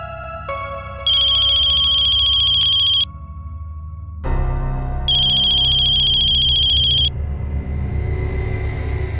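A telephone in a home rings with a loud electronic ringtone in two long bursts separated by a pause, over a low background rumble and faint music, with no speech.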